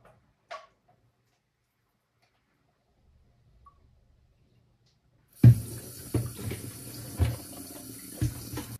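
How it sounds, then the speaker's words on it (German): Running water from a tap rinses the parts of a Hurom H320N slow juicer. A couple of faint clicks come first, and then a steady, fairly loud gush of water splashes over the plastic parts in a sink. "wenn die Teile kurz nach dem Entsaften gereinigt werden, bekommt man den Großteil mit dem fließenden Wasser sauber"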